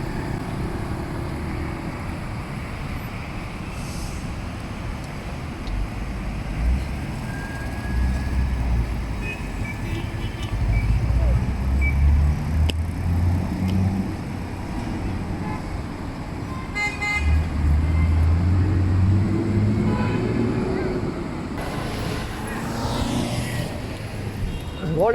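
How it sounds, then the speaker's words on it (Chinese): Traffic jam on a town road: idling and creeping cars and trucks rumble close by, with several short horn toots and a longer honk scattered through, while people talk nearby. "又堵车了。"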